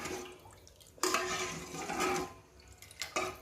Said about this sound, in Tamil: கலக்கி விட்டு